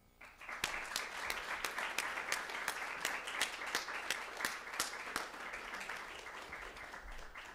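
An audience applauds to welcome lecturer Greg Lambert at a humanities lecture, with dense, steady clapping from a crowd and a few sharper nearby claps standing out, sustained throughout.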